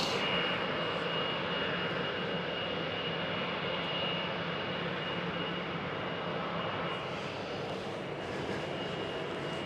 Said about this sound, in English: KLM 777-200ER pushed back, starting up, getting ready for a departure